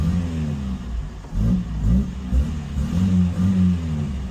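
Revving from an MK1 Ford Fiesta engine after a throttle cable replacement, with repeated rising and falling surges of a loud, close engine note and some light clatter.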